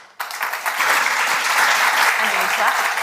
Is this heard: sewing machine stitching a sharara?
no